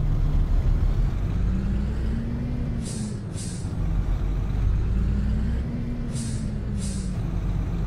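A Dong Feng DFL 4251 truck in Euro Truck Simulator 2 drives on with a steady low engine drone and rumble, while two pairs of short hissing air-brake puffs break through.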